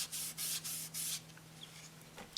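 An embossing bag being rubbed over a Christmas card gives off a soft, breathy scrubbing sound. It comes in four short passes close by, then fades into quiet with a faint steady hum underneath.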